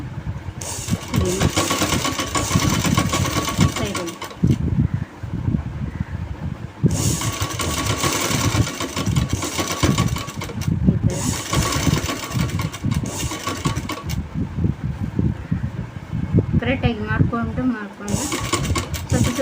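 An electric sewing machine stitches the curve of a round neckline on a garment, running in long, loud, steady bursts. A few brief stops break up the stitching, including one near the middle.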